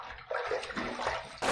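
A safety razor gets rinsed under running water, a short burst of splashing and gurgling flow that ends in a louder rush of tap water.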